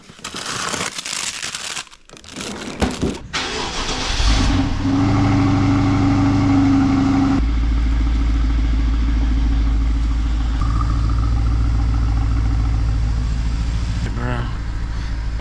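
A BMW 650i with a misfire idles steadily after some crinkling handling noise, its engine running as a loud, continuous low rumble close by.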